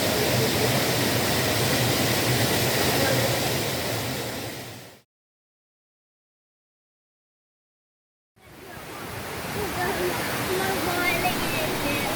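A steady, rushing roar of a waterfall surrounded by trees during the monsoon in West Bengal, fading out to silence partway through and then returning.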